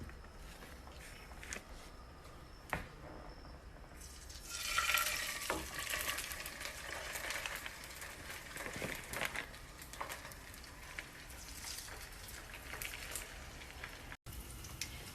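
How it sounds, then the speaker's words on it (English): Steady, quiet frying sizzle from an Arctic char fillet searing skin-down in an oiled pan, a soft crackling hiss that grows fuller partway through, with no voices. "some oil in a pan, put the fish skin down, and cook that undisturbed for 7 minutes"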